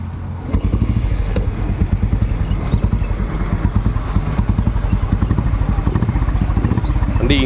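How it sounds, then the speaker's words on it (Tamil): A 1996 Royal Enfield Bullet motorcycle kicks into life, then settles into a loud, close, steady thumping beat that fills the rest of the recording. "வண்டி எப்படி இருக்குன்னு சொல்லி ஸ்டார்ட் பண்ணி காட்டுறேன் பாருங்கள்."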